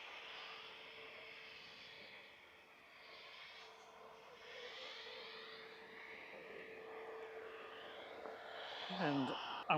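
Ryanair Boeing 737-800 arriving at Manchester Airport, a steady broad jet roar holding throughout at moderate distance, with a louder burst of nearby noise right at the end.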